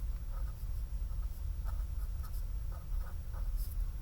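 A pen writes on a surface while notes are taken for a chemistry lesson on electron configurations, giving soft, steady scratching strokes with small taps, close and fairly quiet, with no talk over it.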